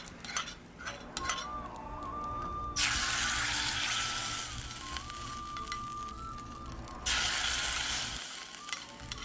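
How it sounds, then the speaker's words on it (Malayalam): Shallots and curry leaves are fried in hot oil as a Kerala curry tempering. Two bursts of bright, loud crackling sizzle rise and then settle over quieter frying, with faint clinks of utensils and a thin tone running beneath. "പിന്നെ കറിവേപ്പിലയും കൂടെ ഇട്ടിട്ട് നന്നായിട്ട് മൂപ്പിച്ചെടുക്കണേ."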